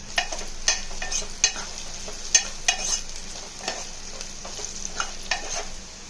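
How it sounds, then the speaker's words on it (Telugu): Onion and green chilli being stirred with turmeric in a pan for mutton curry, a spoon scraping in irregular clicks over a steady frying hiss, close and moderately loud with no talking. "పసుపు వేసి దాని తర్వాత మంచిగా ఆనియన్కి పచ్చిమిర్చి పట్టేలా కలుపుకుంటున్నాను"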